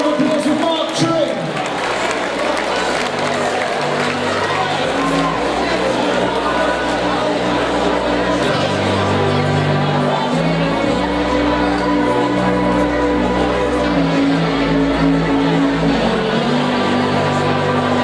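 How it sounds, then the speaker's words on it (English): A fight crowd claps and cheers for a boxer after a bout, sustained applause running the whole stretch beneath an amplified announcer's voice and thumping background music. "One more time, let's have a round of applause for Mark Tring."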